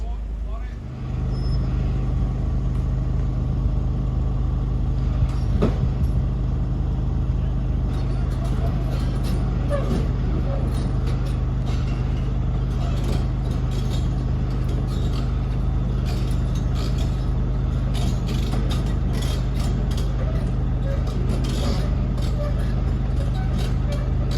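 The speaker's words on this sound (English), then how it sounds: "It's got a big pump there to the right." A big pump runs at a culvert construction site in Grange-over-Sands with a constant, loud, low mechanical drone that never lets up. Scattered clanks and faint voices sit on top of it.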